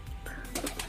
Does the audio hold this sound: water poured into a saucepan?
no